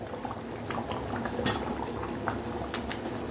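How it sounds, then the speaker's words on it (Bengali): A thin boneless chicken curry boiling in a pot with fried potatoes just added: low bubbling simmer with scattered brief pops and splashes, fairly quiet and close. "জলটা। সমস্ত কিছু দেওয়া হয়ে গেছে, ঝোলটাও ফুটে গেছে।"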